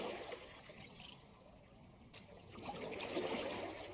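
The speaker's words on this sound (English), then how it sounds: "pushing that water with the oars on one side, then the other side, then the other" Oars pushing through calm lake water from a small rowboat, soft close trickling and sloshing strokes that swell and fade, quiet and alone.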